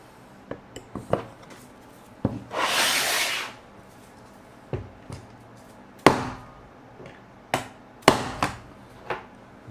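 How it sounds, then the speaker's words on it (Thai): A hammer taps a part into a hard wooden table, sharp knocks spaced irregularly, near and fairly loud, with a brief rushing spray-like noise partway through. "โต๊ะมันแข็งก่อนตรงนี้ เราใช้ค้อนนี้เลยนะ"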